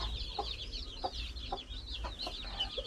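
Newly hatched chicks peeping in a constant high, overlapping chorus, with a few soft lower clucks or calls breaking through at intervals, close by over a low steady rumble and no talk.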